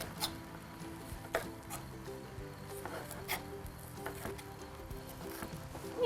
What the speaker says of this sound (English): I'm gonna just chop my red pepper now.